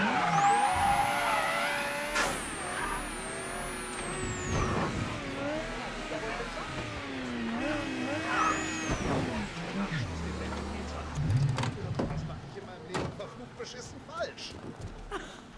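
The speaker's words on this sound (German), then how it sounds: "Ne, wir fahren noch ein Stück vor." Car driven in the Mafia 3 video game, engine revving with tire squeal and skidding sweeps, loud and close, with background music and voices talking over it.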